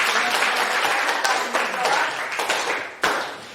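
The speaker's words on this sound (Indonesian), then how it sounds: "berikan tepuk tangan kepada Prof." An audience applauds for a professor after a high school biology lesson, a steady dense clapping that holds throughout with a few sharper claps standing out.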